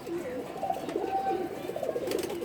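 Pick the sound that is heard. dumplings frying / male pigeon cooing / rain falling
male pigeon cooing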